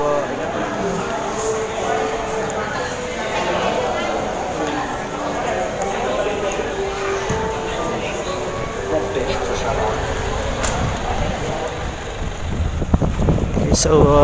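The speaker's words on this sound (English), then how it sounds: "this boat is a bit faster than the light ferry" Steady rumbling engine and rushing water noise of a fast passenger boat under way between Cebu and Bacolod, with wind buffeting the microphone throughout.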